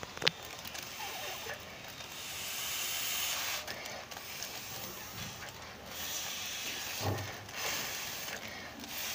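Air hissing steadily as a foil balloon is inflated, a soft, continuous breathy rush with slight rises and dips and a few faint bumps, fairly quiet and unaccompanied by speech.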